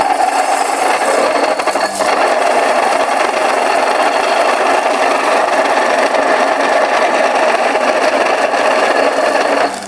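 A Mockmill grain mill grinds rice on a coarse setting, giving a steady, loud, continuous gritty whirring rasp that runs unbroken and fills the whole stretch with no voices.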